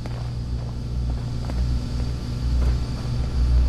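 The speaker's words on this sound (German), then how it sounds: "Nee, das ist nur der Generator." A generator hums steadily inside a dark power station in Fallout 4, a continuous low rumbling drone at moderate level with no voices over it.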